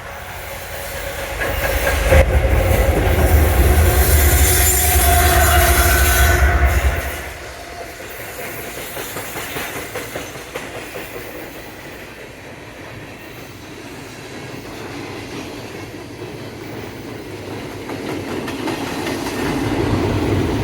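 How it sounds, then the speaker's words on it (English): An Amtrak Downeaster passenger train rolls past on nearby tracks with a loud, rushing roar and clatter of wheels, then eases into a quieter rumbling and clicking as the cars continue by, building again toward the end. "Oh yeah, we're getting a train."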